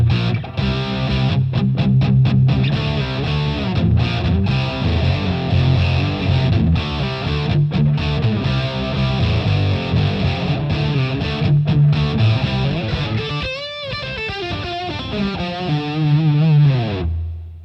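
Electric guitar driven through a Boss DS-1 distortion pedal, thick sustained chords and riffs played alone at a loud level, with a brief pick scrape or slide near the end.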